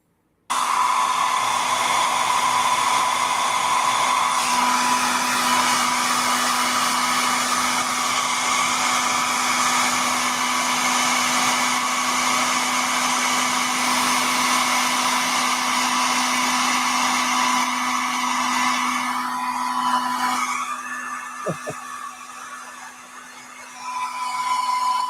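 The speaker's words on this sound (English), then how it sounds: "He's got the nice 1875 watt dryer there." An 1875-watt hair dryer runs continuously at close range, a steady loud whirring hum with a fixed motor whine that holds for most of the stretch, then wavers and drops briefly before resuming.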